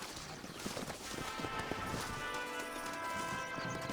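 Steady clip-clop of horse hooves on hard ground, a repeating trot rhythm over a faint background hum and rattle.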